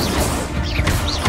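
An Incendio fire spell cast in Hogwarts Legacy bursts out as a loud, dense crash with a roaring whoosh that fills the whole brief moment.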